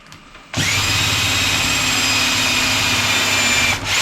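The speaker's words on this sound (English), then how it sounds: "I drilled into the bench and it did fine." Power drill bores into wood while an Adirondack chair is being built, a loud, steady whine starting sharply and holding for several seconds before easing briefly near the end.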